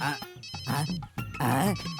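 Telephone ringtone chiming in repeated melodic bursts across the whole stretch, fairly loud and close, with no speech over it.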